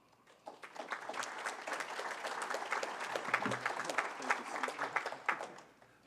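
Audience applause at an energy forum, a dense and steady patter of many clapping hands that builds quickly, holds at an even level for several seconds, then tapers slightly at the end.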